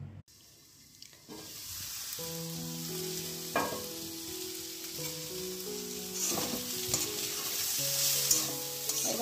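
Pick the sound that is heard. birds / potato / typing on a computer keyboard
potato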